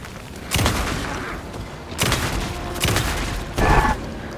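Shotgun blasts in the game Alan Wake 2: four heavy booming shots spaced about a second apart, each a broad burst with a short decay, loud and close, with no talking over them.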